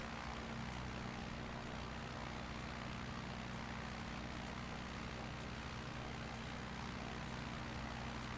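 Steady drone of a Cessna's propeller engine in Microsoft Flight Simulator, a constant even cabin hum with no breaks, heard alone with no voices.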